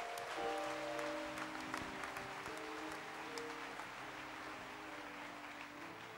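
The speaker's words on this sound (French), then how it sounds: "Acclamons le Seigneur." A church congregation claps together during a service, a dense, steady wash of hand claps that carries on throughout, with music or singing tones running faintly underneath.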